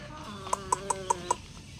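Soft, evenly spaced clucks from young two-month-old chickens in a roost, five short calls in a steady rhythm over faint background noise.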